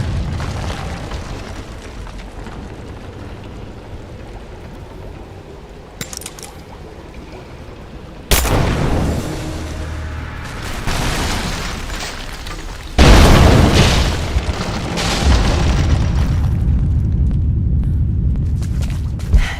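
Greek fire detonations in Rise of the Tomb Raider tear through an unstable statue's supports, with heavy booms near eight and thirteen seconds followed by rumbling debris and crumbling stone over a steady mechanical ambience.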